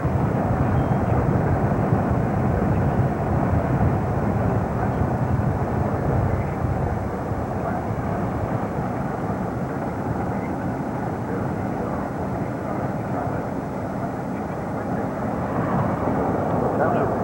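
Propeller airplane droning overhead near a former air base in Panama City, a steady broad engine rumble that holds level and loud throughout with faint voices mixed underneath.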